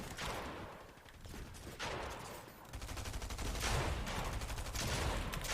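Submachine gun fire in a battle royale video game match, sounding as dense bursts of rapid gunshots that come in waves across the whole stretch, with loud crackling volleys and no talk.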